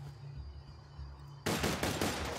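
Gunshots from the video game Borderlands 2, a quiet hum and then a sudden burst of rapid, loud automatic fire.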